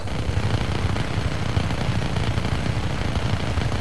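Rapid, dense gunfire from shooting in Just Cause 3, a steady barrage of low booming shots that continues without a break for the whole stretch, loud and close.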